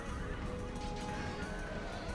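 Horses neigh and whinny amid the rumble of a cavalry battle of horse archers in Rome: Total War, a short, dense, steady wash of game noise with no distinct separate calls.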